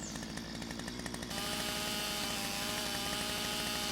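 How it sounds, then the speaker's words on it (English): Chainsaw revving and cutting through a tree in the video game Lumberjack Simulator, a loud, steady buzzing drone that starts choppy and pulsing, then smooths into a continuous high whine as the blade bites in. "so we'll whip out the chainsaw, and that one's down"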